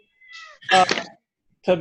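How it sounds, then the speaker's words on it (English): Cats yowling and screeching in an alley fight in a video game, a thin wail followed by two loud, close, harsh bursts separated by a short silence. "cats meowing and fighting in the alley"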